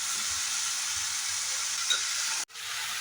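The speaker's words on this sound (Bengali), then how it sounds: "দেখেছো বন্ধু সবজিটা কিন্তু ভাজা হচ্ছে খুব সুন্দরভাবে" Malabar spinach vegetables sizzle steadily in a hot pan, a continuous close hiss that cuts out for a brief moment before resuming.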